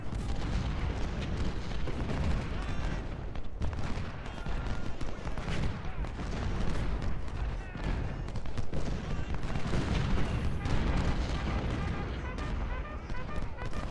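Civil War battle in the Ultimate General strategy game, with dense, continuous musket volleys and booming artillery rolling through the whole stretch, loud and crowded, with a voice talking over the din.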